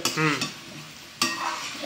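Vegetables fry in a pan, a sizzling hiss with two sharp bursts of stirring or scraping near the start and middle, close and moderately loud, with no speech.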